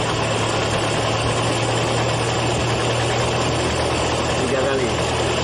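An engine idles with a steady, even rumble while its carburetor is being adjusted; the running sound is close and constant throughout, without clear changes in speed.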